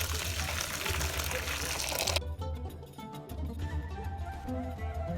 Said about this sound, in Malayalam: ഇനി നമുക്ക് ഇതിൻ്റെ വെള്ളം ഊറ്റിക്കളയണം.